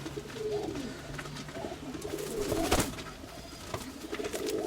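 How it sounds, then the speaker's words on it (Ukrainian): Pigeon cooing close by, several soft throaty coos repeating in a loose rhythm, with a brief flutter of wings partway through. "Ось такий він голубок."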